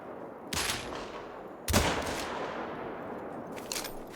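Pistol shots from a video game ring out in three separate bursts, each a sharp crack with a short tail, spaced irregularly over a few seconds without any talking.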